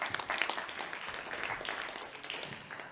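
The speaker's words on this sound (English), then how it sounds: "Round of applause, please." An audience at an energy technology summit finals claps in a brief, dense round of applause, fairly close and continuous without talk.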